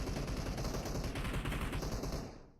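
Rapid automatic gunfire from a video game rattles on in a dense, continuous burst at close range, fading out at the end, with no talk over it.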